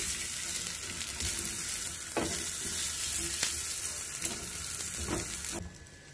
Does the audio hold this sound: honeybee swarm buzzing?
no